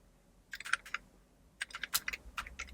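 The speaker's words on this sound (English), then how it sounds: "See if the keyboard works." Keys clacking on an Amiga computer keyboard in two short bursts of quick, crisp presses separated by a brief pause, close and fairly quiet.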